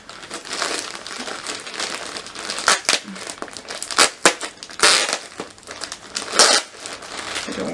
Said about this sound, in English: I don't want to rip the packaging entirely